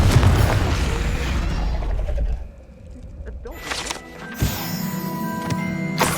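A Confringo fire spell explodes in the video game Hogwarts Legacy as a loud, broad roaring blast that fades after a couple of seconds, followed by quieter mechanical game sounds and a later thud.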